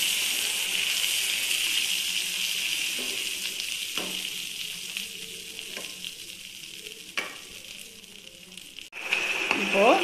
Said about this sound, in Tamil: இப்போது நல்லா அந்த புளி கொழுந்து நல்லா கொதிச்சிச்சு.